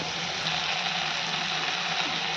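Water pours into a pan of masoor dal in a steady, loud rushing gush that fills the whole moment without pause, heard close and alone.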